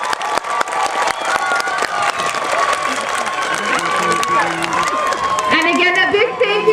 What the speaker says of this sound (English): Let's give everybody a big round of applause.